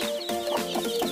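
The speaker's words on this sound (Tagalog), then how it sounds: "So yung inahin guys is nandun pala sa likuran." A mother hen clucking nearby, a quick run of short, throaty clucks in an uneven rhythm, fairly close and clear, with no talking.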